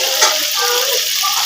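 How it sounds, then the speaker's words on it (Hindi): Spices frying in oil in a pan for beef kofta, a loud, continuous hissing sizzle with a brief stirring knock near the start, close and steady with no talking. "तो मसाले की अच्छी से बुनाई हो रही है।"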